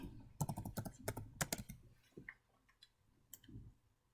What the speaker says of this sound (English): I'm going to type here, what do I need to type?